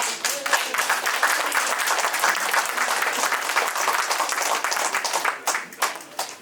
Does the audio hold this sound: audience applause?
yes